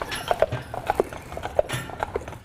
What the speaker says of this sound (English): it's nice to sit back and listen to the clop, clop, clop of the horses